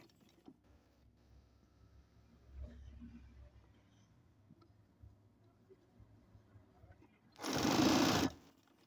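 Sewing machine stitching the sleeve of a shirt at the shoulder, a short loud burst of rapid whirring near the end after quiet handling and faint rustles.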